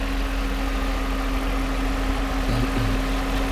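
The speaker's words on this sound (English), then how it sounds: "what I do is the fan is spinning" A 1990s Mercedes-Benz engine idles with its viscous-clutch cooling fan spinning, making a steady, loud, close whooshing hum with a constant low tone and a few brief bumps near the end.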